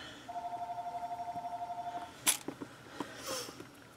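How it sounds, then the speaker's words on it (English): A phone rings in another room, a steady pulsing electronic trill repeating for about two seconds, faint and muffled by distance, followed by light handling clatter nearby. "Sorry, my phone is ringing in the other room."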